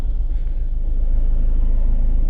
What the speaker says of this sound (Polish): Ten samochód za mną jedzie już od domu.